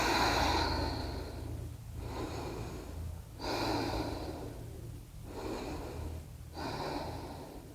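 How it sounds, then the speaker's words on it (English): During a morning yoga session, a person breathes slowly in and out, four long, airy breaths in an even rhythm, close and fairly soft, with no talk over them. "Now we start breathing again. Breathing in, breathing out"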